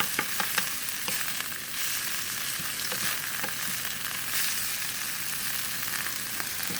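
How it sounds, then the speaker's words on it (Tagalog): Bitter gourd (ampalaya) sizzling and crackling steadily in a hot pan as it is stirred, with scattered clicks of a utensil against the pan and no voices. "Haluin lang ng mabuti."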